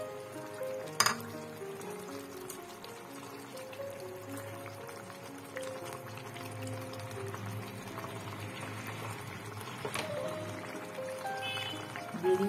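Fried eggplant pieces go into a simmering bhola fish curry with mustard, giving a soft steady bubbling with occasional clinks of a utensil against the pan.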